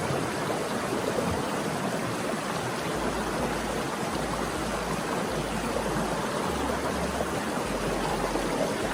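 A river flows steadily in an outdoor rural setting, a continuous broadband rush of water, close and even, with no voices.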